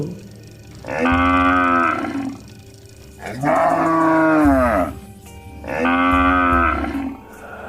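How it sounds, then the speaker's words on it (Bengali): A cow moos three times at night near a carcass dump, each long and loud lowing call lasting about a second and a half, with short pauses between and no talk. "এত রাতে ভাগাড়ে আবার গরু কোথা থেকে ডাকছে?"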